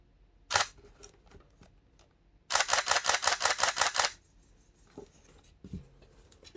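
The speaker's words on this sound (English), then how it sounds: "if you want the camera to fire without your cards in" Nikon D600 DSLR shutter firing: one sharp click, then a rapid burst of about eight evenly spaced shutter actuations, close and clear, followed by faint mechanical handling noises.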